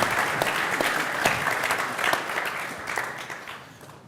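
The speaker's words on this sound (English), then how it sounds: "We didn't get to clap for Alina." Audience at a ZBrush Summit presentation clapping for a Disney artist, dense sustained applause filling the room, gradually thinning and fading toward the end.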